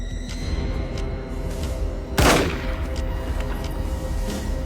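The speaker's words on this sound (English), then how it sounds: "6 shots ring out." A single loud, sharp gunshot-like bang from a crime drama film scene cuts through a low rumbling background, with fainter knocks around it.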